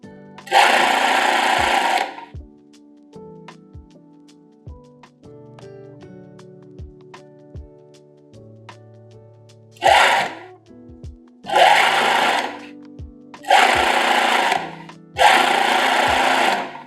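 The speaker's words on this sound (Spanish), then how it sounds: "Se cose del lado del derecho porque se ve perfectamente la overlock. Y empezamos a pespuntear." A sewing machine topstitches the right side of a finished overlocked garment in a series-production workshop, running in five loud bursts of steady whirring separated by quiet pauses with faint handling clicks.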